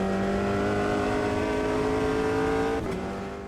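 In-cockpit race car engine from the Automobilista 2 sim racing game, a loud sustained rising drone that holds steady before a sharp mechanical upshift near the end drops the pitch.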